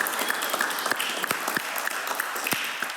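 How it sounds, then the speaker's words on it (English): An audience at a networking event applauds its supporting partners, a steady wash of many hands clapping with sharp individual claps popping out over three seconds, close and fairly loud, with no talking. "if you want to give a round of applause for all of our partners"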